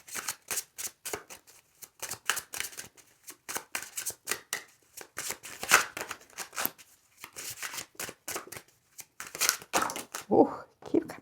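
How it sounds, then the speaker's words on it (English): A deck of tarot cards being shuffled in quick, irregular riffles and slides, with crisp papery bursts that are close and fairly soft, continuing throughout with brief pauses. "when I was shuffling your cards"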